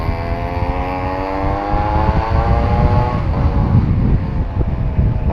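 A ported Suzuki Shaolin motorcycle's chamber exhaust revs loudly and close, a raspy rising drone with strong harmonics, steady engine noise beneath, no talking.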